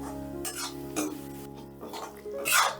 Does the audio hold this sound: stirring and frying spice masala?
yes